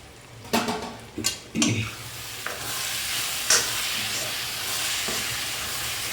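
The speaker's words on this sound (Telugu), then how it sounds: "ఓకే టమాటాలు మంచిగా ఎరిగినాయి" Tomatoes fry in a pan for a village-style tomato egg curry, with a constant sizzle and hiss. A few sharp clatters of a spoon or lid come early in the clip, and then the frying carries on alone.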